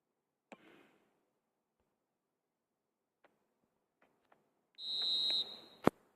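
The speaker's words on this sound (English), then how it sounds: "The whistle's gone, and that's it for the first half." In an eFootball video game, a referee's whistle signals the end of the first half: one shrill, steady blast lasting about a second, following a few faint clicks in otherwise near-silent audio.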